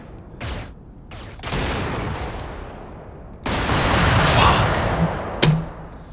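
A vehicle explodes in the video game Brigador amid heavy gunfire, with sharp bursts and a sustained roaring blast, then a final loud crack with a booming thud near the end, all without speech.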